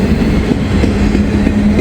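Train rolling past in Walton, a steady, loud rumble and rattle of wagons at close range with no voices.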